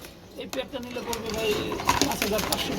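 Pigeons at a market stall give low cooing calls amid scattered rustles and clicks, heard close and mixed with background talk.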